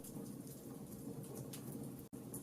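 Steady rain pours during a thunderstorm while thunder rumbles, a soft continuous wash of sound effect with a brief dropout near the end and no talking.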